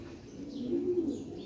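Domestic pigeon cooing at close range from a golden breeder pair, giving a steady low murmuring coo that swells slightly in the middle and carries on with no talking.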